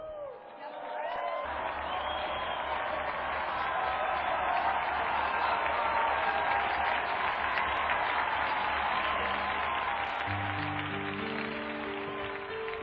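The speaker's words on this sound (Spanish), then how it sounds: "brindemos nuestro cálido aplauso a los santos Bernardo, Pedro, Otón, Acurso y Auxilio" Warm applause from an audience at a Catholic gathering honouring the Franciscan martyrs of Morocco, steady, dense clapping and crowd noise filling the whole stretch, with a sustained low organ-like tone entering near the end.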